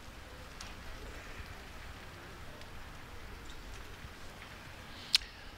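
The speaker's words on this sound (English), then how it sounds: "As the rain falls again." Light rain falls steadily at an outdoor crown green bowls championship in Blackpool, making a soft, even hiss. One brief sharp click sounds near the end, and no one speaks.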